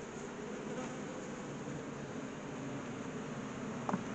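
Honey bees of the dark bee strain buzz at an open hive during evening feeding, a dense, steady, close drone with no pauses and a faint click near the end.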